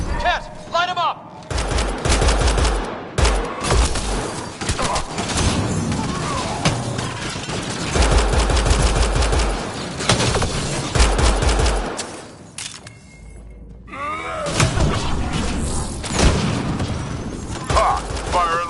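Heavy firefight in Mass Effect: Andromeda, with repeated bursts of weapon fire and booming impacts over a cluttered battle mix, broken by a short lull midway, while voices call out over the shooting.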